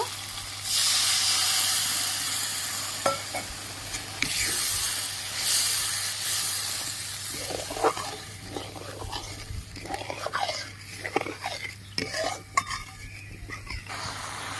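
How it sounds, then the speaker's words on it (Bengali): Water poured into hot oil while cooking a Bengali dhokar dalna gives a loud burst of hissing sizzle that slowly fades. Light clinks and stirring sounds from the pan follow, close up, and no one speaks. "এবার আমি পরিমাণ মতন জল দিয়ে দেব"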